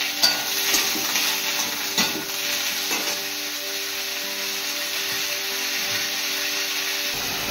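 Sesame seeds and rice dry-roasting in a pan in a home kitchen, giving a steady, close sizzling hiss with occasional scraping stirs and light clinks throughout.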